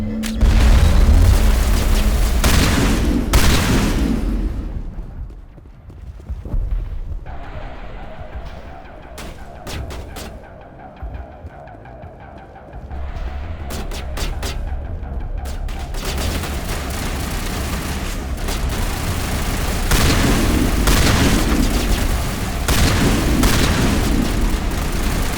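Grenade blasts in the Mass Effect video game: loud, booming explosions with a heavy rumble at the start, a quieter lull, then sustained dense blasts and crackling gunfire filling the rest.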